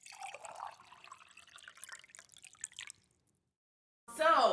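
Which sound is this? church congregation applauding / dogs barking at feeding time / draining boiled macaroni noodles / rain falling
draining boiled macaroni noodles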